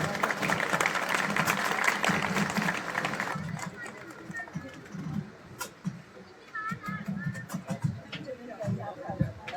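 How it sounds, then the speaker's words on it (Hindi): An audience at a college annual cultural festival applauds loudly for a few seconds, then the clapping thins into scattered claps and crowd murmur with voices speaking. "जोरदार तालियों के साथ"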